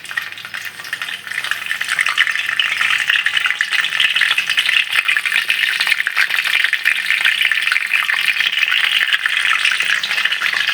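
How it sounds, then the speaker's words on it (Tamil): Steady, dense sizzling and crackling of chillies frying in hot oil, loud and continuous, with occasional light rattles as they are stirred; no voices. "எண்ணெய் சூடாகிடுச்சு. ஸோ நம்ம வந்து காஞ்ச மிளகா போட்டு தாளிக்கலாம்."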